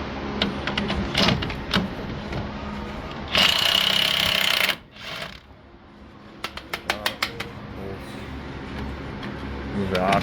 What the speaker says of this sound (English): So I'm just going in with my impact.